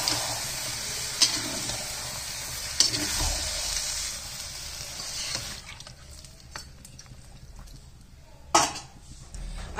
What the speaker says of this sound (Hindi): कढ़ाई में बना रहे हैं इसलिए चलाना पड़ रहा है